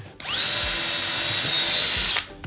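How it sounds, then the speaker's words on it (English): A power drill whirs up and holds a steady high whine for about two seconds while pre-drilling a hole to mount a roller blind, then cuts off abruptly. "pre-drill that hole,"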